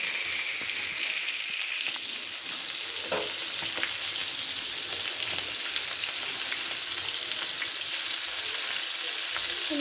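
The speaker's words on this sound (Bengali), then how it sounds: "মাছটা ভাজতে আছে।" Fish fries in a pan, a continuous loud crackling sizzle with dense spitting pops that holds steady throughout, with no voices.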